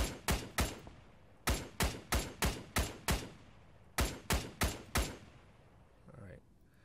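Gunfire in an ARMA 3 custom battle between JSDF and Titans forces: a rapid series of loud, sharp single shots in three close-spaced bursts, each echoing briefly, then a low rumble at the end.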